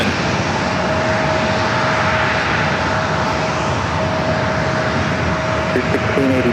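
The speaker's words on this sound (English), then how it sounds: "Also have that unmarked Ovalo 737 headed over here for a takeoff on 27." A Boeing 737 airliner takes off from runway 27 at San Diego airport, its engines a loud, steady, broadband roar that holds constant throughout, with a faint thin tone running beneath.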